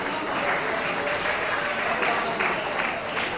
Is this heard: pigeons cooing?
no